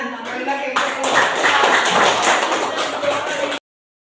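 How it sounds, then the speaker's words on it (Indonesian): Primary school classroom applause for a student group, a burst of many hands clapping close and loud for about three seconds before cutting off abruptly, with voices mixed in. "Tepuk tangan."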